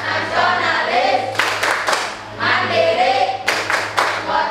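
A group performs the tepuk PPK clap chant, voices chanting in unison while two bursts of sharp rhythmic hand claps come through close and loud between the chanted lines.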